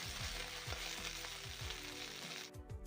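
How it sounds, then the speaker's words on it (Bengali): A dried red chili crackles and sizzles in hot mustard oil in a wok, a loud, steady fry close up with faint stirring scrapes and no talk. "কড়াইতে আরও খানিকটা তেল দিলাম দিয়ে দিয়ে দিলাম একটা শুকনো লঙ্কা ফোড়ন"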